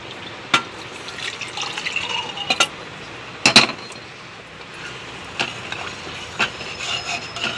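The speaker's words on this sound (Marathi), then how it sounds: "थोडे पाणी घालून घेऊ" Water poured into a cooking pot while making sambar: a soft close trickle with a few sharp knocks and clinks of the vessel scattered through it.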